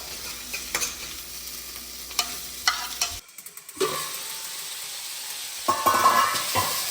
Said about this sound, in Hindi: तो मैं डाल देता हूँ इसमें प्याज